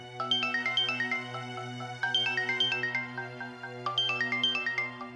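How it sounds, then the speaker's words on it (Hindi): A mobile phone ringtone plays a repeating melodic chime pattern over a steady low hum, cycling three times at moderate loudness with no voices. "अब निदा का फोन आ रहा है"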